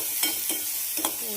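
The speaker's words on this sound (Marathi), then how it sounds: "तेल गरम झालं की त्यात टाकूया बारीक चिरलेला कांदा।" Finely chopped onion sautés in hot oil, cooking for a cheesy veg pizza topping, giving a steady close hiss and sizzle, with a few soft spoon-stirring scrapes over it.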